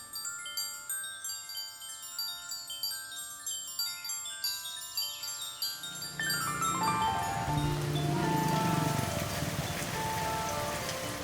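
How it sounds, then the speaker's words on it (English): A tropical downpour in a working-class neighborhood on the outskirts of Hanoi, starting as scattered tinkling drips and building into a dense, steady roar of rain on surfaces, heard alone without voices. "A tropical downpour in a working-class neighborhood on the outskirts of Hanoi."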